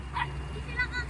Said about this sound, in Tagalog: Eh, tumatahol eh!